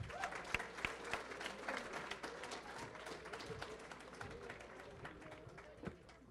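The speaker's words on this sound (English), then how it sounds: "Round of applause for everyone." A group in a classroom applauds after a team wins, giving steady, moderately distant clapping with scattered sharper claps throughout.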